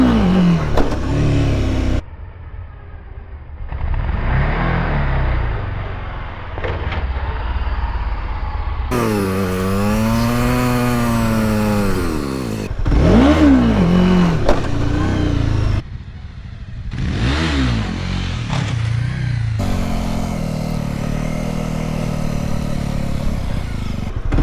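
A motorcycle engine runs steadily at night during wheelie practice, close and loud, with repeated rising and falling revs and throttle blips as it accelerates, plus occasional mechanical clatter.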